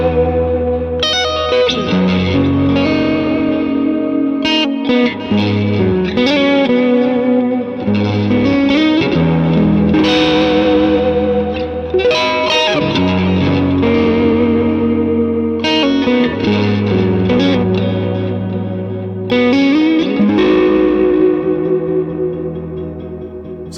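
An electric guitar runs through amp modeler presets loaded with effects, playing distorted, chorus-washed phrases with echo and reverb, loud and continuous, sections shifting tone every few seconds, with no talking.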